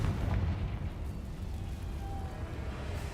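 A Confringo blasting spell in Hogwarts Legacy lands as a steady, rumbling explosion with crackling debris, moderately loud and fading only slightly over a few seconds.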